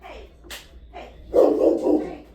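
Dogs at home bark at people walking by outside, several sharp barks close by, the last ones loudest, with a voice talking nearby.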